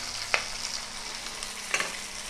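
Green chillies and whole cleaned shallots sautéing in a pan for Kerala-style pork varattu, a soft steady sizzle broken by two sharp stirring scrapes, close and fairly quiet.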